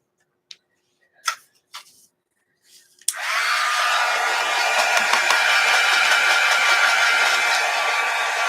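A hair dryer blows on wet paint on a gelli printing plate, starting abruptly after a few small clicks and handling knocks, then holding a loud, steady whoosh for several seconds.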